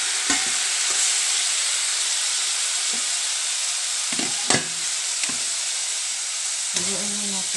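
Pork belly (liempo) for adobo frying in a hot pan gives a steady, close sizzle broken by scraping stirs, with a brief voice near the end.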